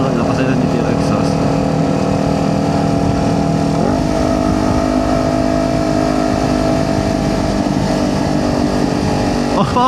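A 2023 Kawasaki Ninja 400 motorcycle fitted with a new exhaust idles and revs steadily nearby, its engine note rising in two short surges, with voices talking over the running engine.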